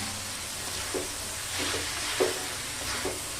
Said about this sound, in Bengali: খুব ভালো করে ওপর নিচ করে বাঁধাকপি আর চিকেন এবং মশলা মিশিয়ে নিতে হবে